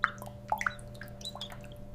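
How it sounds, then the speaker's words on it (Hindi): Water drips from a nipple drinker line in a broiler chicken house. A few small, irregular plops and drips stand out over a steady low background hum. "पानी के लिए निप्पल सिस्टम होता है जिसे चोंच मारते ही पानी टपकता है।"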